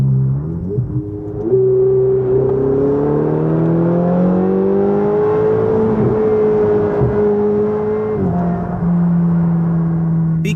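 A Ferrari 488 accelerates up through the gears while merging onto a highway, its engine note climbing in steady rising sweeps with short dips at each upshift, loud and continuous from inside the car.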